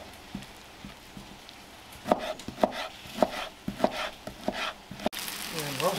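A kitchen knife cuts through food on a board at home, splitting a piece that came out too thick into two thinner ones. About eight to ten sharp, close chops land in an irregular rhythm, then a sizzle of frying starts at the end.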